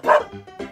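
A single dog gives a loud close bark followed by a shorter second yip, a quick pair of canine calls with no talking.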